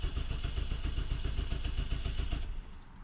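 A straight-piped 750 hp Nissan R32 Skyline GT-R with a sequential gearbox cranking with a fast, even pulsing rhythm for over two seconds, then dropping off, close and loud, with no talking.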